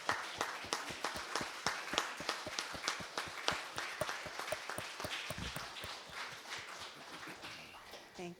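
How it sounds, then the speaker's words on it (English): A church congregation applauds during a Sunday service, a steady run of many hands clapping that gradually thins and fades, with faint voices underneath. "Let's stand up and give him a big round of applause."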